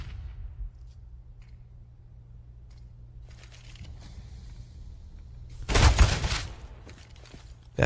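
Counter-Strike gunfire on the Mirage map, a short burst of loud shots about two-thirds through, with faint footsteps and quieter game ambience before it and another shot at the very end.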